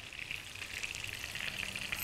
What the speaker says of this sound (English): While these are frying, let's make our dipping sauce.